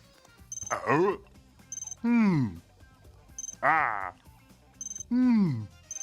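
A telephone rings in repeated short high-pitched bursts, alternating with loud chirpy croaking or warbling voices between rings, over a cricket video-game setting.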